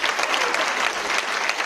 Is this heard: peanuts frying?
no